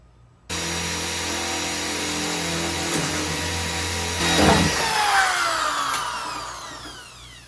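A power drill whirs steadily as its bit cuts into car body metal during a Beetle-to-BMW body swap, starting abruptly, then rising into a scraping, squealing whine near the end, close and loud with no talking.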